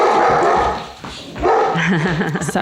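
A dog barks and yips nearby in a few sharp bursts, then gives a wavering whine, loud and close with no speech over it.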